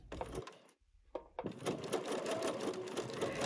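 Sewing machine stitching micro stippling on a quilt at a short stitch length, a brief run, a pause, then a fast continuous close mechanical whir to the end.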